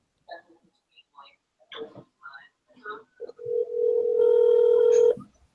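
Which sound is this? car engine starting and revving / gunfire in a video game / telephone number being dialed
telephone number being dialed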